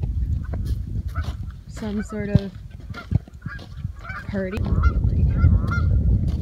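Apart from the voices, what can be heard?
Canada geese honking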